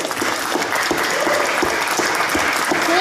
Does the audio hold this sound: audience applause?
yes